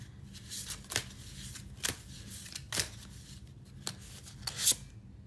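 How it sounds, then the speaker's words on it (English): Tarot cards are shuffled close up during a live reading, giving several crisp riffling bursts about once a second against quiet background hum. "Keep shuffling."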